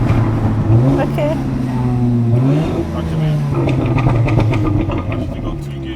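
A 550 bhp car accelerates hard through two gears on a London street, its engine note rising, dropping at the shift and climbing again, loud from inside the cabin beneath people talking.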